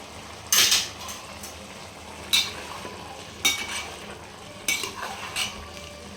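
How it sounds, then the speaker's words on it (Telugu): Half-cooked rice stirred together with fried dry fruits for chicken mandi, four or five scraping spoon strokes against the pot at irregular intervals over a faint sizzle, close and moderately loud, no talking. "ఇందాక ఫ్రై చేసి పక్కన పెట్టుకున్న డ్రై ఫ్రూట్స్ వేసేసి కలుపుకోవాలన్నమాట"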